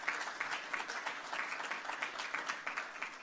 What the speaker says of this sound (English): How about a round of applause for the staff here at the Clarion Hotel and Conference Center?